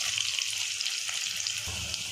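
Onions frying in oil in a pan, a steady close sizzle with a bright crackle that continues throughout, briefly louder and fuller near the end as the pieces are stirred.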